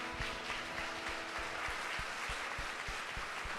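A church congregation applauding during a worship service, steady rhythmic clapping from many hands at moderate distance, fairly soft, with low thuds marking the beat.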